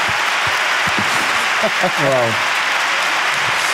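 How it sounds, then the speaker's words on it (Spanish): Applause from a comedy show audience rolls on steadily beneath a voice that speaks briefly over it. "Aplauso, por favor, para la vida de Goyo."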